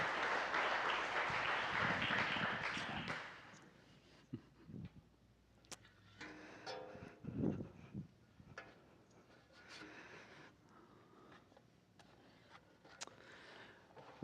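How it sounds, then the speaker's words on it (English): Church congregation applauds warmly for a few seconds, then the clapping dies away into scattered claps, shuffling and quiet room noise. "Why don't you give him a round of applause?"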